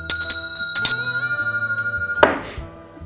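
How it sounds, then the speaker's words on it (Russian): A small hand bell rung to summon servants on a farm, two bright quick bursts of ringing followed by a lingering, slowly fading tone, then a clattering rustle. "особенно впечатляет момент с колокольчиком."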